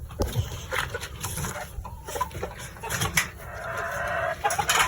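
Chickens cluck in short, uneven bursts close by, one after another, with scratchy background rustling between the calls.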